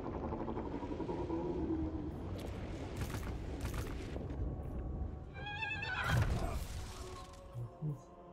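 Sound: horse neighing in Total War video game

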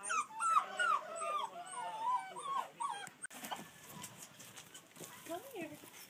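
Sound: scared puppies whimpering

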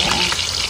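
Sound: frying fish with salt and chili

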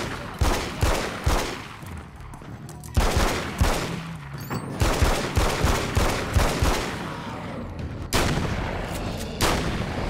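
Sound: gunshots in video game Alan Wake's American Nightmare

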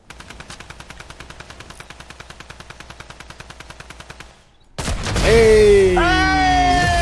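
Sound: gunfire from a battle royale video game

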